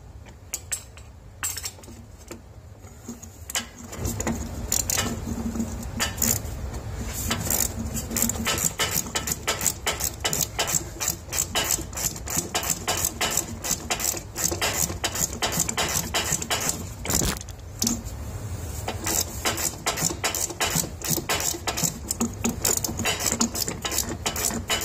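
A 13 mm ratchet wrench loosens a bolt on a Chevy, a steady close run of rapid clicking strokes that continues almost without pause, with no talk.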